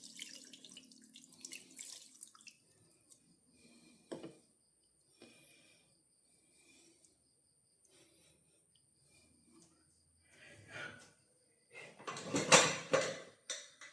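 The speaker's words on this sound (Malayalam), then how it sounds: "ഏതാണ്ട് ഒരു 1/2 കപ്പോളം വെള്ളം നമ്മൾ ഇതിലൊഴിക്കും" About half a cup of water is poured into a pressure cooker of Kerala-style beef roast, a short splashing trickle near the end after quiet clinks and scrapes from the pot.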